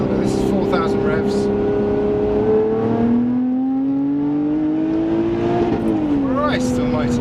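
A Lotus Evora Sport 410 engine revs hard under acceleration from inside the car, its droning tone climbing steadily before a brief shift, with wind and road noise around it.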